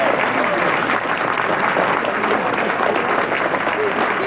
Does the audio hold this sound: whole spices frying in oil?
no